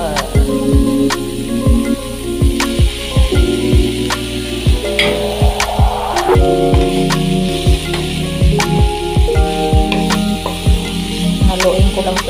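Cauliflower with coriander leaves sizzles steadily in a pan, a continuous frying hiss broken by repeated scraping stirs and clinks throughout, close and fairly loud with no talk.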